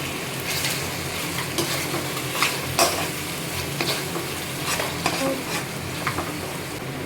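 Onions and spices sauté in a hot pan for an Easter feast, a steady close sizzle broken by frequent stirring scrapes and light clinks of a spoon against the pan, with no talking.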